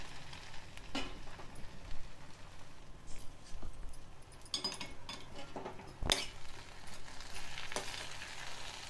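Gongura paste frying and being stirred in an oiled pan: a soft, steady sizzle runs throughout, broken by scattered spoon scrapes and light clinks against the pan.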